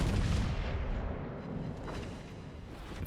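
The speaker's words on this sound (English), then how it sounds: "Let's see this salvo." Naval gun salvo roaring out in a warship battle video game, a dense low rumbling boom that rolls on and slowly fades across the moment, with no talking over it.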